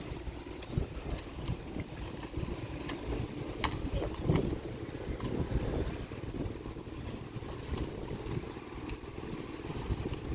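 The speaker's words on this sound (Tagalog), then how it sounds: "Lakas ang hangin." Strong wind gusts blasting across an outdoor construction site, roaring and buffeting continuously with broadband rumble and a few sharper gusts, steady and loud throughout with no voices.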